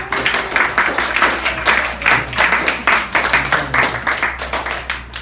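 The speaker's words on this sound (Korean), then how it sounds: "격려의 박수를 합니다" A church congregation at a Sunday service applauds the worship team steadily, many hands clapping in a dense, continuous patter with a low hum underneath.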